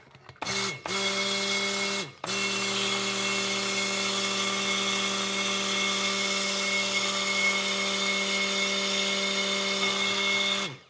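Cold process soap batter is stirred while a steady motorized whir drones on close and loud, cutting out briefly twice near the start and then running unbroken.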